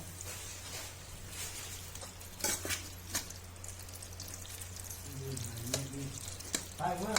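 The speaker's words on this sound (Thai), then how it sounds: "ก็เอาน้ำลงเลยพี่น้องเด้อเอาน้ำใส่" Water poured into a hot cooking pot, heard as a steady sizzle and hiss with a few clinks and stirring scrapes, fairly faint, while a voice talks briefly near the end.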